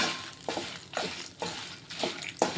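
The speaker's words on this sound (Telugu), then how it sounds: "ఇవన్నీ ఒక రెండు నిమిషాలు అలా ఫ్రై చేసుకుంటానండి" Ingredients for curry leaf powder, including mustard seeds, fry on low heat in a pan, with soft sizzling broken by a rhythmic series of stirring scrapes roughly every half second.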